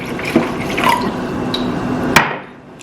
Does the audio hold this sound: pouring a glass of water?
yes